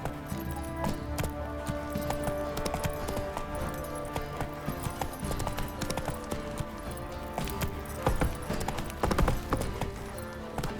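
Roach, Geralt's horse in The Witcher 3, gallops with steady rhythmic hoofbeats throughout, set against a dense game soundtrack and ambience, with an occasional snort and brief speech.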